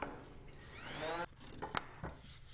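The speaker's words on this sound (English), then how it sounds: "I'm just sanding off all of the top and front corner edges." Sandpaper rubs along the top and front corner edges of cut 1x6 pine boards, making a faint, brief scraping swish that fades after about a second, with a few small knocks afterward.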